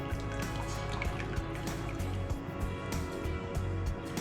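Brewed chaga chai draining through a strainer, giving a steady close trickle and patter of liquid with scattered drips throughout.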